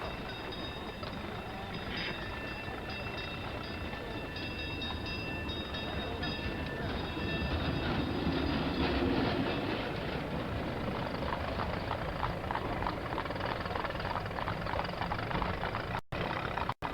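An electric tram rolls along rails in a steady, continuous low rumble with a faint metallic whine, heard at moderate distance throughout.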